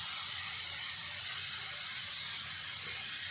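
Ginger garlic paste fries in a pan with onions for chicken keema, giving a steady, close sizzling hiss that holds evenly without pause and has no talk over it.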